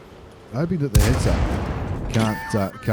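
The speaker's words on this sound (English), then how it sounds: "Shoot the Type 95 once and twice." Tank cannon shots in World of Tanks, two sharp booming reports about a second apart with rumbling decay, followed by a voice speaking over the game sounds.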